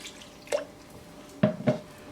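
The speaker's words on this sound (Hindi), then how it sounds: "मिक्स कर लेने के बाद आप इसमें जो है पानी डालेंगे आहिस्ता आहिस्ता" Water poured slowly into gram flour batter for vegetable pakoras, heard as a few soft, short splashes and drips spaced apart, faint and close, with no voices.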